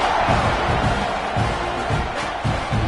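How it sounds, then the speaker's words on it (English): Stadium crowd in College Football 26, a dense steady buzz of many voices with muffled thumps, continuous and moderately loud. "this crowd is buzzing after that last score"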